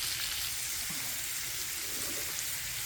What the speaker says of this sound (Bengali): তাই চিংড়ি মাছটা একটু ভাজা দিয়ে নিতেছি, পানিটা শুষে যাবে।